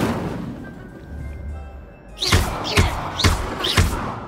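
After a quiet stretch, an Incendio fire spell in the video game Hogwarts Legacy bursts out as four punchy thuds, evenly spaced about half a second apart.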